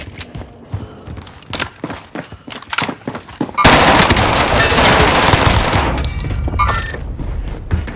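Call of Duty Warzone gunfire in the Salt Mine area: a few sharp early shots, then a sustained loud burst of automatic fire and impacts from about the midpoint to the end, close and dense.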